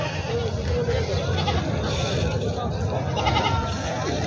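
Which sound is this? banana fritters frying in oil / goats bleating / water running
goats bleating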